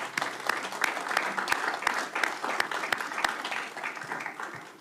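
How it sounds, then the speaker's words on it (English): Applause from the audience at a school board meeting, a moderate crowd clapping steadily with some sharper individual claps standing out. "So if we can just give them a round of applause for just an incredible event."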